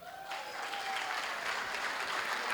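A crowd at an awards ceremony applauds an Actress of the Year winner, dense steady clapping from many hands throughout, with a faint tone in the first part.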